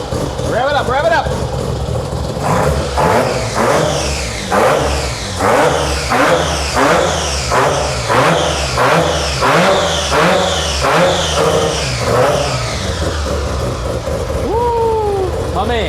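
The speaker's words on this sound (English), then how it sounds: "Rev it up, rev it up" A car with a 13B Bridgeport rotary engine and full Racing Beat setup revs hard over and over, loud and close, in rising and falling pulses, with people talking and cheering over it.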